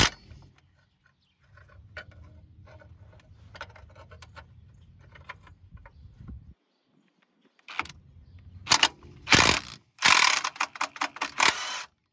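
A ratchet works loose a seized shock nut on an old truck during radius arm bushing work, a low muffled rasping for several seconds, then a pause followed by louder sharp clicking ratchet strokes near the end.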